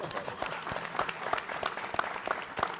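An audience applauding at a university engineering luncheon, a dense continuous patter of many hands clapping throughout, moderately loud in a room.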